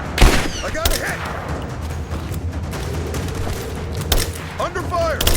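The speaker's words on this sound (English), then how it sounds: "Under fire!" Gunfire in the video game Rise of the Tomb Raider, with sustained bursts of shots crackling through a battle against a military helicopter, dense and loud, while voices shout over the fighting.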